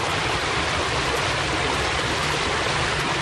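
A woodland creek pours over a small waterfall in a nature preserve, a constant, full rushing of water that stays loud and close without a break.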